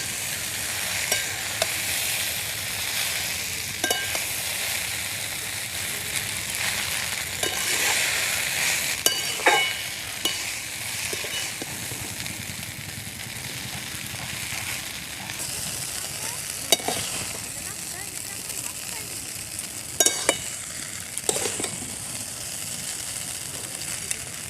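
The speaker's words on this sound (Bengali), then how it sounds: "এবার খুব ভালোভাবে একসাথে সব কিছু মিশিয়ে দেব।" Chicken chowmein being stir-fried with cooked meat in a pan gives a steady, close sizzle throughout, broken by repeated scraping stirs and occasional sharp clinks of a utensil against the pan.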